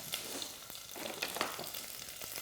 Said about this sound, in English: when the onion and garlic starting to really cook there